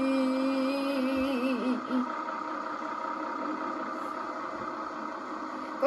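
Farm tractor engine running on a dairy farm, a steady droning idle with tonal whine, close and continuous, with a voice briefly heard over it at the start.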